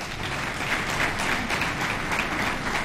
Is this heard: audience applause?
yes